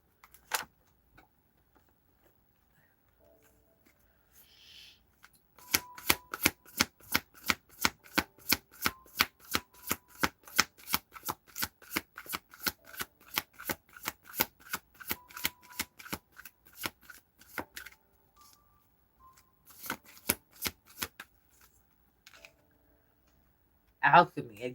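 Tarot cards are riffled and shuffled in a fast, even run of crisp slaps and flutters lasting many seconds, close and fairly loud, with a few scattered handling clicks before and after.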